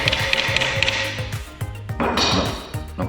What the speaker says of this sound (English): knock that in with a hammer after